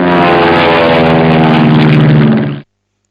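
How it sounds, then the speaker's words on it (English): A propeller aeroplane drones loud and steady with a dense engine roar, close and sustained, then cuts off abruptly. "A is for aeroplane"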